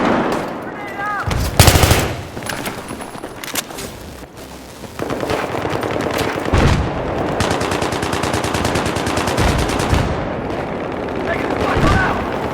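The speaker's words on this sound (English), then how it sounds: "They got a machine gun over there!" Sustained automatic gunfire from a machine gun in Battlefield 3 team deathmatch on Seine Crossing, Xbox 360, rattling in rapid bursts alongside louder single shots and explosions, with a voice speaking amid the continuous battle noise.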